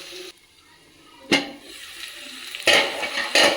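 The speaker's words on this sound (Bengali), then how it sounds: "চাপাটা খুলে আমি অল্প একটু জল দেব, দিয়ে এটাকে ভালো করে কষাবো" A little water goes into a pan of vegetarian radish curry in short splashy bursts, one sharp splash early and a louder pour near the end, with no talking.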